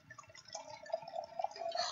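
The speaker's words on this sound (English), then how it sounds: "So I'm gonna pour myself another glass." Negroamaro red wine pours into a glass, a close gurgling trickle that rises in pitch as the glass fills, with faint voices in the background.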